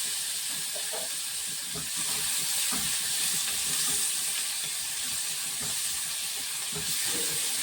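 A soft, steady sizzle of onion and capsicum frying in a pan, with light stirring scrapes now and then, fairly quiet and with no one talking.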